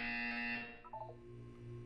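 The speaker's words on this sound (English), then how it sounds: "When you hear the buzzer, look up at the ceiling." Buzzer in the video game Portal 2, a single steady electronic tone that holds and then fades out, faint and alone.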